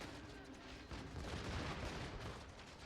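Cannon fire in a Total War: Shogun 2 battle rumbles through a dense, continuous wash of low booms and crackling gunfire, a loud distant barrage with no clear single shots.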